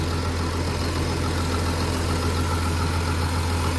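A car engine idles close by, a steady low rumbling drone that holds constant throughout with no voices.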